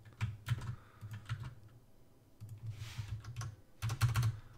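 Close, quick typing on a computer keyboard during a chess-and-poker stream, rapid clattering keystrokes in irregular bursts with short pauses between them and no talking.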